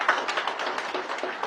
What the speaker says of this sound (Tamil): நல்ல அரங்கம் நிறைந்த கைத்தட்டல் தரலாம் அவருடைய தமிழ் பற்றிற்கு